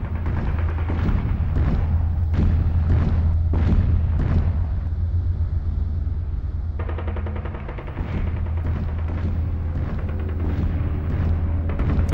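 Artillery cannon explosions during a siege of the Alcázar in Toledo in the Spanish Civil War, heard as repeated loud booms and bursts of gunfire over a constant low rumble, with rapid firing in the later part.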